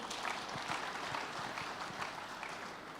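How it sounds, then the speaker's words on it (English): Audience at an international engineering conference technical session applauding a presenter, with a steady wash of many hands clapping at moderate distance for about three seconds and no talk over it. "Please clap for him for that wonderful presentation."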